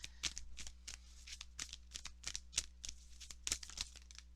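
Tarot cards are drawn and slid from a deck in a quick series of soft, crisp paper flicks and rustles, steady and close under a faint background hum.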